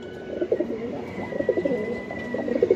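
Pigeons coo repeatedly in soft, rounded bursts, close by and fairly steady, with a low hum of other birds behind them. The birds are giribaz flying pigeons kept in a loft, including a hen of a cross-bred line.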